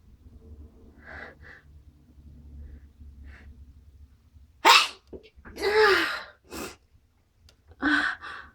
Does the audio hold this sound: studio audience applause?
no